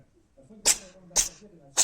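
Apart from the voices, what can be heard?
cat sneezing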